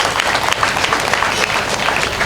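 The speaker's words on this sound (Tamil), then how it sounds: "அவருக்கு நம்ம கைத்தட்டி நன்றி சொல்லணும்" Dense, steady applause from an audience at a Tamil debate stage event held for a temple consecration, the clapping loud and continuous throughout with no talk over it.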